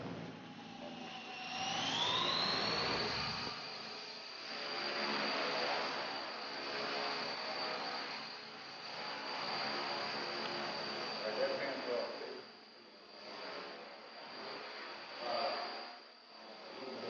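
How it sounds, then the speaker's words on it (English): Small RC coaxial helicopter rotors spinning up, a rising whine climbing in pitch then holding as a steady buzzing hum, with people talking over it throughout. "get the prop to spin"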